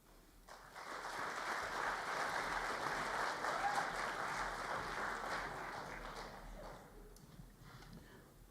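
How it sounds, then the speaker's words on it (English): Audience applause at a high school winter band concert, a dense steady roar of clapping hands filling the hall for about eight seconds before gradually thinning out. "I do want to ask for a special round of applause for our middle schoolers playing tonight"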